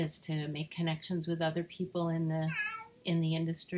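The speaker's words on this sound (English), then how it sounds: "That's my cat off to the side." A house cat meows off to the side, several clear drawn-out meows close to the microphone, mixed in with a person speaking continuously over them.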